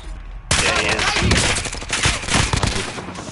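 Rapid bursts of automatic gunfire in Call of Duty Modern Warfare, loud and dense, crackling almost continuously after a sudden onset.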